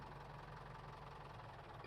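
A tractor engine in Farming Simulator 22 drones steadily as it hauls very big bales, a continuous low, throbbing rumble with no pauses, fairly quiet and alone.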